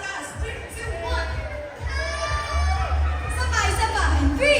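A large crowd in a shopping mall shouts on cue at a P-pop idol mall tour event, a dense sustained roar of voices that swells and holds over several seconds alongside loud low-end music.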